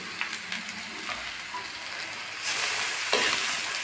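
Beetroot fries in a pan with salt and turmeric under a soft, steady sizzle, with scattered scraping stirs, and the hiss swells louder partway through.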